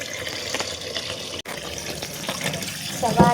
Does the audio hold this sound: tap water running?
yes